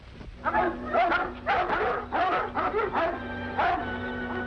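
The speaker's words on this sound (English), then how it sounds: "Something stirred up the dogs." Several dogs bark and whimper in an old-time radio drama, a run of loud, close yaps that come in quick bursts over a steady background hum.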